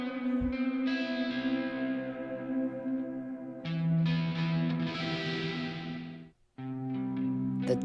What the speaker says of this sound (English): Some of the pedals, the ambient reverb, chorus, and sustain compressor.